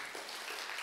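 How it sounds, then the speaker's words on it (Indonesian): A church congregation at a Sunday service breaks into applause, soft and distant, a steady wash of clapping with no talk over it. "Amin, tepuk tangan dong."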